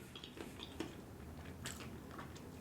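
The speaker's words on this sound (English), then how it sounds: "That was real crunchy" Someone bites and chews crunchy KFC fried chicken close to the microphone, a few sharp crackling crunches over soft, quiet chewing, with no talking.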